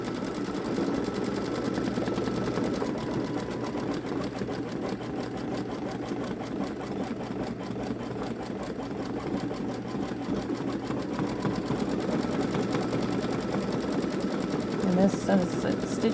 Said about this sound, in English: It's doing a thicker outline satin stitch around the wings